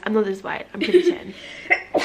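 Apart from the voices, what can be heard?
sneeze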